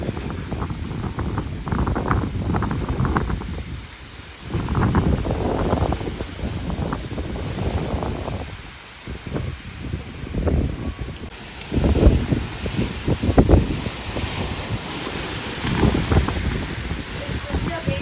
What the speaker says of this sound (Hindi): एकदम से बहुत तेज हवा, बहुत तेज हवा।